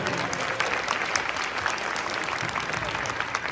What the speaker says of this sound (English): let's give a round of applause to Jerry Jambazian